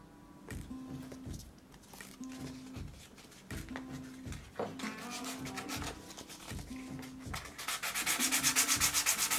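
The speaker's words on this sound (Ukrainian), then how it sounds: "Шліфую я такою от 180-кою на поролоні." 180-grit sandpaper on a foam backing rubs back and forth over wood in steady, even strokes, close by, the scratching growing louder and brighter toward the end.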